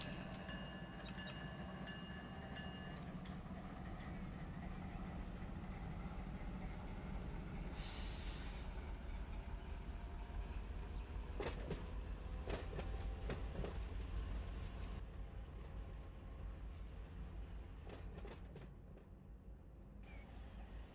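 Freight train backing up in Run 8 Train Simulator, a steady loud rumble of rolling cars with clickety-clack, faint wheel squeal and brief horn-like tones, continuous throughout.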